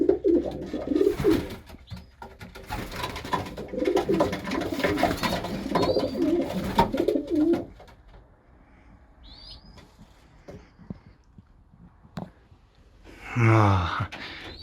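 A sick pet pigeon coos and stirs close by in a quiet room, with a busy stretch of soft calls and wing movement at first, then near silence broken by a few faint sounds and a final louder burst.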